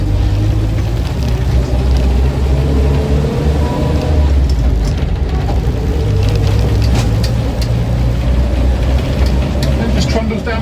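A Land Rover Series 2a 88-inch soft top with a petrol engine trundles down the road, its low steady drone rumbling continuously, loud and near, with road and wind noise mixed in.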